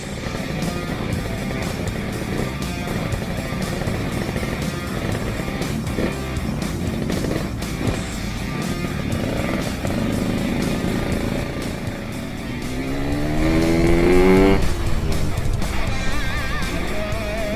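A Yamaha RX King two-stroke motorcycle rides toward a dock, its engine a continuous rough drone mixed with wind rush, swelling louder near the end as the throttle opens, with no talk.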